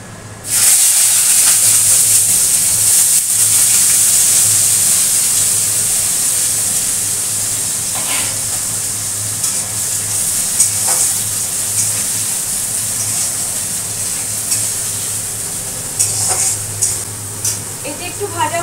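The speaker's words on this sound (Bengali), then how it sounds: "তারপরে দিয়ে দিচ্ছি পেঁয়াজ আর রসুন ফোড়ন।" Onion, garlic and black cumin seeds tempering in hot oil, a loud steady sizzle and hiss that fades slightly over time, with occasional stirring scrapes and light clinks.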